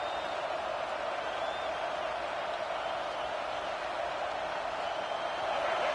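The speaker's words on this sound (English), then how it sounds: "This crowd busting the decibel meter and trying to will a fourth down stop." A loud stadium crowd at a football game, with a dense, steady roar of many voices filling the space on a fourth down, holding constant and swelling slightly toward the end.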